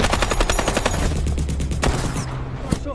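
Rapid automatic gunfire in a film firefight, loud sustained bursts of shots rattling close by, tapering into scattered single shots.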